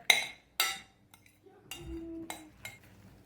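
A zucchini mixture for zucchini patties is moved into a bigger bowl: two sharp clinks of a utensil against the bowl, then quieter scrapes and a few lighter taps, close and alone.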